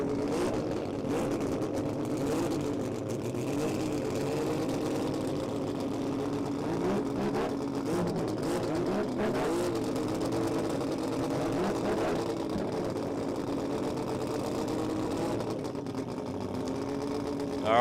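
Drag racing cars at the Garrett Brisbane Jamboree stage at the start line, their engines giving a steady, loud, buzzing drone that holds throughout, with a brief jump in volume at the very end.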